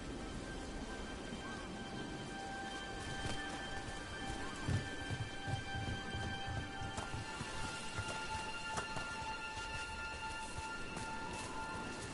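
Rain falls steadily in Dragon Age: The Veilguard, a soft, even hiss with scattered drips and faint thumps, fairly quiet and with no one talking.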